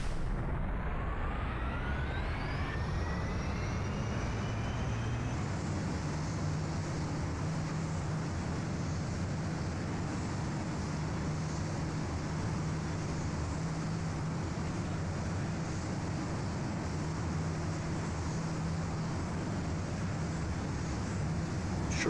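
A VTOL aircraft in Kerbal Space Program flies with a steady, continuous engine drone that holds loud and level throughout, with a rising whine early on as it gets going.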